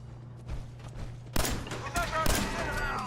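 Automated turret gunfire in Fallout 4 survival mode, a sudden loud burst of rapid shots that keeps going and then repeats in clusters, with quieter game ambience and hum before it.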